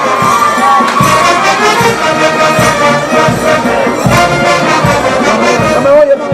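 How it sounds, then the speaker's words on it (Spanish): Crowd at the Los Negritos de Vicco 2019 festival dance in Pasco, Peru, shouting and cheering continuously, loud and dense over rhythmic music and voices. "La chica Valle, un grito."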